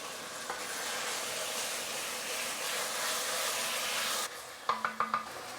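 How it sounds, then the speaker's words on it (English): Minced meat and potato curry being stirred in a pan, a steady sizzle under scraping for several seconds, then it quiets and a few sharp spoon knocks close the stir. "And now we're going to give it a mix."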